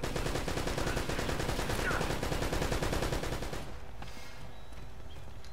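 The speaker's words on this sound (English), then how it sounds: "Who the hell's shooting at me from here?" Dense, continuous enemy gunfire from Uncharted: Drake's Fortune rattles loudly for several seconds, then drops to a quieter steady background with faint tonal noise.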